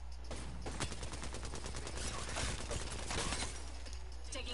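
Rapid automatic gunfire in a shooter video game, a steady loud stream of closely spaced shots with sharper cracks scattered throughout, over a constant low background rumble.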